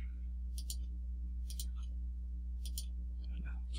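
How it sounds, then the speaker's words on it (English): Computer mouse clicks while tracing an image selection with a magnetic lasso tool: three crisp, evenly spaced clicks over a steady low electrical hum, with a faint extra tick near the end. "Keep on clicking"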